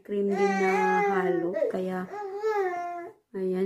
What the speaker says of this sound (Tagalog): Baby, ang ingay mo na.